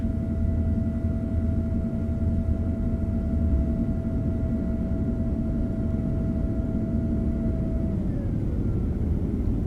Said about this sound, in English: We're going to go gear down. We're going to go flaps 15 degrees. I'll give you guys a nice view and sound of that.